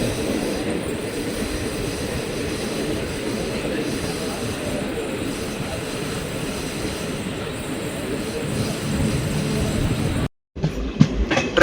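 A passenger train rumbles steadily on the approach into Kasaragod railway station, a continuous rolling roar heard from inside the coach, briefly cutting out near the end before resuming with louder clatter.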